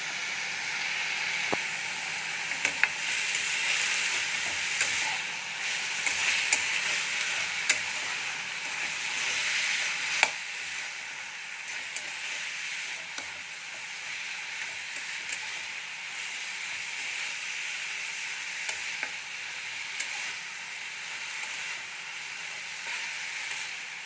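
Leafy greens (shak) fry in a pan with a steady loud sizzle and hiss, broken by occasional clicks and scrapes of stirring throughout.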